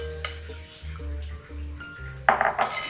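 Dry chana dal pours and clatters into a metal pan of water with a brief rattling burst, after a stretch of low kitchen hum and light clinks.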